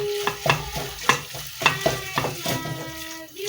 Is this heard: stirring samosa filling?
yes